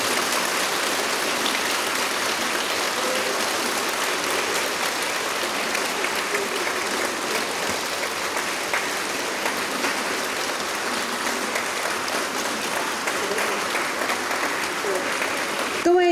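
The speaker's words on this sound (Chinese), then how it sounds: "让我们以热烈掌声恭送法师及乐语坛人" Warm, sustained applause fills a large hall at an international Buddhist conference as a Dharma master is seen off, a dense steady clapping that runs throughout at even loudness before thinning at the very end.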